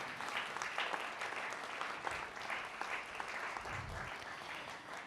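A church congregation breaks into dense, sustained applause during a sermon, steady and fairly loud throughout with no talking over it.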